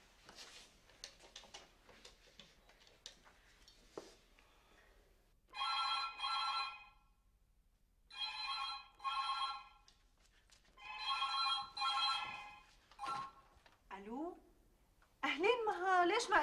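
A telephone rings in repeated bursts of electronic ringing, with pauses between the rings, and people talk in Arabic before and after.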